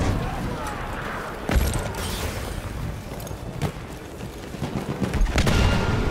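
Heavy gun firing in the Battlefield 1 game on the Cape Helles map, loud booming shots and explosions at irregular intervals amid constant battle noise, with players talking over it.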